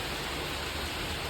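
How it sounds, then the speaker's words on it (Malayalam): Heavy rain pours down in a steady, dense hiss that fills the whole moment, loud and even with no pauses and no voices. "ഇതാ എന്തൊരു മഴയാന്ന് നോക്കി."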